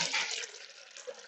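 Warm sugar water pours in a steady, splashing stream for a vodka sugar wash, loud at first and then easing to a softer trickle, close by with no talking.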